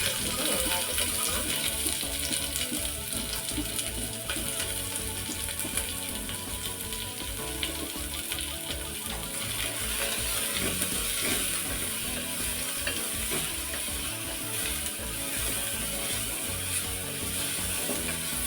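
Onions with green chilli and curry leaves sauté in a pan, giving a steady, close sizzle with occasional stirring scrapes and soft bubbling that continues without pause.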